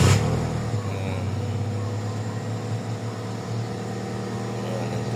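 An overheating 1986 Honda Civic with a newly replaced engine valve seal starts up with a brief burst, then settles into a steady, low idle that keeps running at close range.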